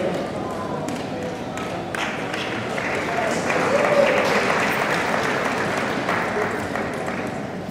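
Sustained applause from an audience at a 12th-grade graduation ceremony at St Johns University, steady clapping that swells slightly midway and carries on under a voice speaking.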